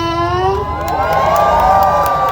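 Crowd at an outdoor live concert at a temple in Ayutthaya, Thailand, cheering and whooping for a singer in a loud, sustained roar of mixed voices.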